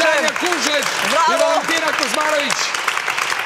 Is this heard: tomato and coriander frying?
no